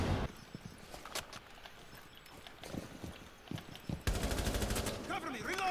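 Gunfire in Rainbow Six Siege shot through a wall during a ranked match, a bursty rapid volley near the end after scattered earlier shots, with game ambience and a player talking around it.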